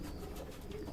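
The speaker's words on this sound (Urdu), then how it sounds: "الگ الگ کلر کے کبوتر رکھے ہیں عثمان بھائی نے" Pet pigeons of different colours kept by a pigeon keeper, cooing in a soft, steady, low warble for a brief moment, quiet and without speech.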